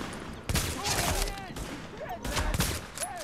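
Gunfire in The Division video game, a few sharp shots and bursts over a busy background of game sounds and effects, moderately loud.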